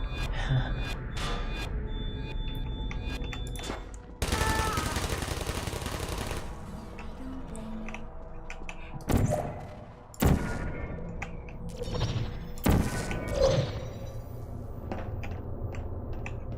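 Automated turret firing in the video game Portal 2, a dense rattling burst of rapid shots with several sharp cracks and pops around it, loud and close with no talking.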